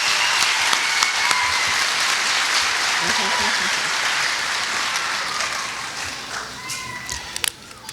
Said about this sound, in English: Give them one more hand of applause.